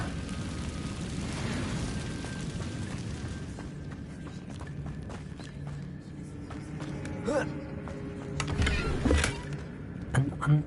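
Incendio fire spell cast in Hogwarts Legacy, heard as a steady roaring rush of flame that builds into several sharp blasts and bursts near the end, mixed with other game sounds.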